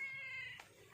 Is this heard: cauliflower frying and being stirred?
no